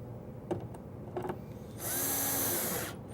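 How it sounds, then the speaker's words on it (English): A power drill drives screws to fasten a drawer slide inside a wooden cabinet, a steady close whine lasting about a second after a few faint knocks and handling sounds. "Screw that in place, making sure that that slide in the front is just back from the front"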